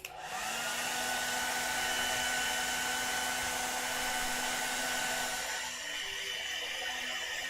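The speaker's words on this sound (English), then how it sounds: "I'm gonna take my hair dryer real quick. Sorry if it's noisy." A hair dryer blows with a steady, loud whirring hiss, running continuously throughout and easing slightly near the end.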